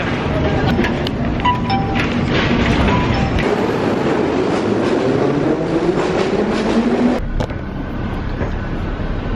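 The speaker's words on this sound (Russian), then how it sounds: "Заходим в метро э, Тбилиси." A metro train in Tbilisi rumbles and clatters loudly, its pitch rising as it moves, then the noise drops off abruptly near the end.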